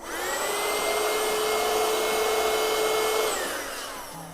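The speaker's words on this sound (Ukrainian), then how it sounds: "він починає смоктувати всю грязь" A small handheld Keda car vacuum whirs at a steady high pitch for several seconds, then winds down as it switches off.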